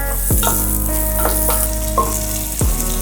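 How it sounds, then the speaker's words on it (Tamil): Frying on a medium flame for koottanchoru, with a steady sizzle running throughout and a few brief utensil clinks and stirs over it, no talking. "அப்படி ஒரு மிதமான தீயில இதை ஃப்ரை பண்ணுங்க."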